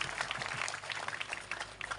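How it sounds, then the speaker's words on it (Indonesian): Quiet applause from an Indonesian audience honoring its elders, a dense, continuous patter of many hands clapping at a distance with no pauses. "Tepuk tangan buat orang-orang tua kita."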